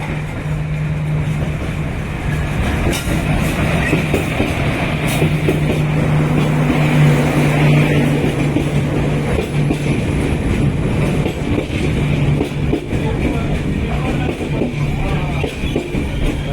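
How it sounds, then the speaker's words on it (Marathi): A Mandovi Express train arrives at a crowded station platform, a loud, steady rumble with a low engine drone running throughout, close by and with no talking. "आता आमच्या इकडे मांडवी एक्सप्रेस गाडी येता"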